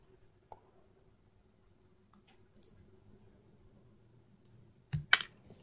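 Scissors cut plastic canvas diagonally for a heart keyring, with a few faint ticks followed near the end by a louder cluster of close, sharp snipping clicks in a quiet room.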